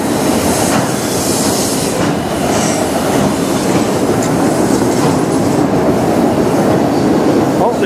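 A CN freight train of autorack cars rolls past on the rails near a road bridge in London, a loud, steady roar of wheels with rhythmic clickety-clack and faint squeal throughout.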